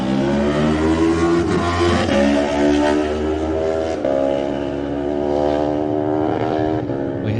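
Michael Dunlop's Lightweight race motorcycle at the 2018 Isle of Man TT roars loudly from the start, its engine note climbing and shifting through gears in a sustained, close snarl.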